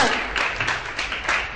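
Audience at a company event applauding in a short burst of steady clapping, fairly close and continuous throughout.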